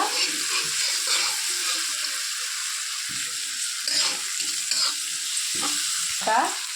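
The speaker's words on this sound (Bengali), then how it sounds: "এই যে রসুন আদা আর কাঁচা লঙ্কা বাটাটা আমি পুরো তেলে দিয়ে এখন মশলাটা ভালো করে কষে নেব" Garlic, ginger and green chilli paste sizzles in hot oil alongside browned onion, a dense continuous crackle with scattered stirring scrapes, close up and without speech.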